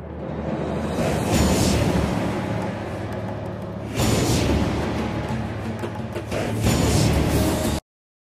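Loud, dense orchestral music from the video game God of War (the first game) with choral voices and heavy percussion, swelling in powerful surges before cutting off abruptly.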